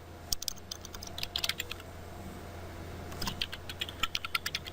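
Typing a command on a computer keyboard while configuring a Cisco ASA 5510 firewall, two bursts of quick, crisp keystrokes separated by a short pause, with no talking.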